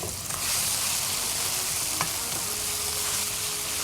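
Minced meat, 400 grams, fries with cooked-down spices in a pan, a loud, dense, constant sizzle up close with a brief utensil knock midway and no talking.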